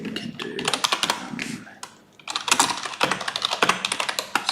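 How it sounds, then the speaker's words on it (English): Rapid bursts of keystrokes on a computer keyboard while working in a terminal, close and clear, in uneven runs with a brief pause midway. "I'm just typing in a different terminal"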